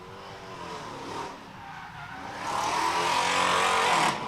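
Race car engine revving hard at a test and tune drag strip session, a loud continuous roar that drops briefly then climbs to a louder sustained pitch, with tire noise mixed in.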